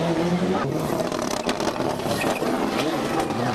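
A Toyota Celica GT4 turbocharged rally car engine growls steadily and loudly up close, with a rough mechanical rattle in the tone and no pauses.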